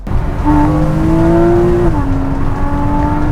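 A Porsche in Sport Plus mode blasts down a dual carriageway, its loud engine note climbing steadily, dipping briefly at a gear change, then pulling hard again.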